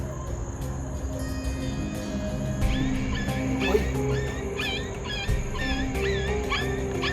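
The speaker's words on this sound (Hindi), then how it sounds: "शायद ये जवाब जो दे रहा है वो कुत्ता दे रहा है" A dog in a forest at night gives repeated yips and whimpering cries, moderately near, over a constant hiss of insects and low ambient noise.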